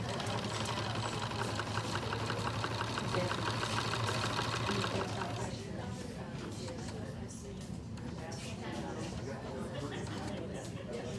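A sewing machine stitches a coiled rope basket, running as a steady, close mechanical whir for about five seconds before giving way to a quieter, rougher rattling texture.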